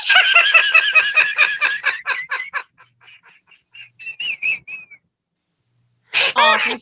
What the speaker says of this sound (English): Ladies and gentlemen, we'll be right back after these whistles.